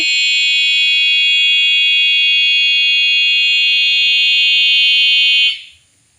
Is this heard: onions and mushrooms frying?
no